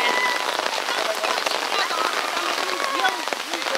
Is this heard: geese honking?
no